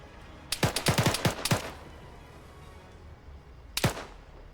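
Gunfire in the video game Arma 3: a rapid burst of sharp shots, then a pause and a couple more loud cracks, close and unaccompanied by talk.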